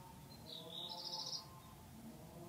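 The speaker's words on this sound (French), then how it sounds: "nous on entend les vaches en arrière-plan, les oiseaux" A short bird chirp rings out once over a quiet outdoor background, faint and somewhat distant.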